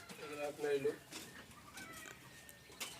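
Lotan pigeons in a home loft give a brief, faint coo and murmur near the start, then a quiet backdrop with soft indistinct voices.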